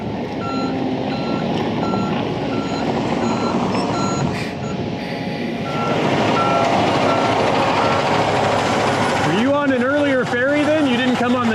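A concrete truck arriving at an island building site, its engine growing louder and closer while a steady reversing beeper repeats, ending with a rising whine, as people talk nearby.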